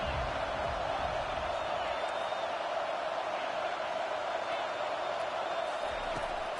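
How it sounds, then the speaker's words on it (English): A home crowd in an NCAA college football video game keeps up a constant, broad roar of cheering throughout, a steady wash of noise with faint whoops rising from it and a voice talking over the top. "Man, this crowd really affecting the football game."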